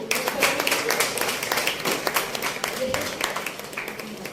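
Audience applause at a live Hindi art gathering, dense clapping running steadily throughout, with voices faintly mixed in beneath.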